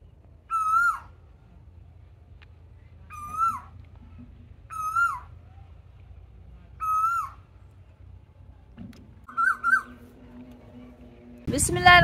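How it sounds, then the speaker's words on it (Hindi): An Asian koel calls in a Pakistani village in the evening, giving four clear, repeated rising calls at a moderate distance, then a brief bubbling call. A sudden loud noise follows at the end. "कोयल आ गई है।"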